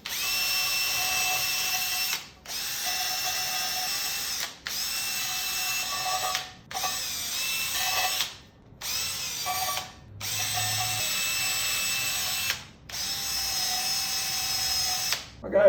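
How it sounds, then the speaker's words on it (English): A power drill with a wire brush whirs in repeated long bursts of about two seconds each, separated by short pauses, grinding loudly against a metal manifold of a 1934 Chevy truck's 327 small-block engine up close. "I'll just use a drill with a brush on it."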